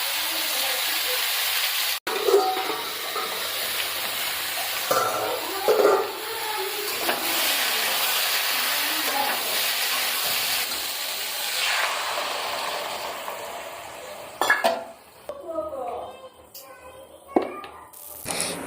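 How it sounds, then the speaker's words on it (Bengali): Potatoes fry over a high gas flame, giving a steady, broad hiss of sizzling that stays loud for most of the clip, with a few clattering knocks near the end. "প্রথমে একটু ভাজা ভাজা করে কষে নিতে হবে"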